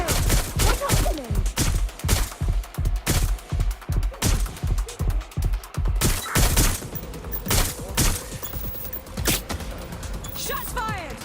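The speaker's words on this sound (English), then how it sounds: "Shots fired! Shots fired!" Rapid gunfire rattles through a Watch Dogs Legion game scene, with dense volleys of shots in steady rhythmic bursts and occasional louder booms, with voices speaking underneath.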